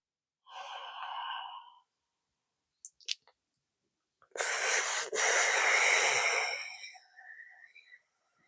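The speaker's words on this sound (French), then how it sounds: "Et ensuite, vous expirerez par les 2 narines." Breath forcefully exhaled through both nostrils during a breathing exercise, a close rushing nasal exhale about two seconds long that fades out, following an earlier shorter breath and a couple of small clicks.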